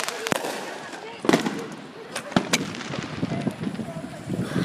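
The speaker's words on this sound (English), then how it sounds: "Look at all these fireworks." Fourth of July fireworks go off all around a residential neighborhood, with several sharp, loud cracks and pops over a steady crackling rumble and some wind noise on the microphone.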